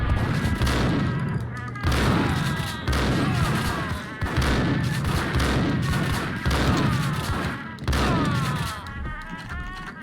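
Dense, heavy gunfire rings out in a Max Payne shootout on PC, with rapid overlapping shots and booms that keep up almost without a break for ten seconds.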